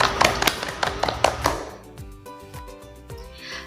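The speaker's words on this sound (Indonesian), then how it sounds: "Mari kita tepuk tangan untuk kita semua." In a classroom a group of students claps together in a short, sharp, rhythmic burst lasting about a second and a half. Soft background music follows.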